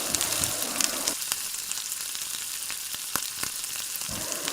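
Onions and green chillies fry in a pan for potato kurma, a steady close sizzle with brief stirring scrapes and a louder burst of crackle at the start and end.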